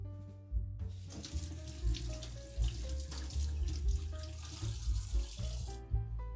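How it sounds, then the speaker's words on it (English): Cold tap water runs steadily into a sink while raw chicken breasts are rinsed beneath it, a continuous splashing stream with shifting gurgles and low thumps as the meat is handled. "First, rinse the breasts with cold water."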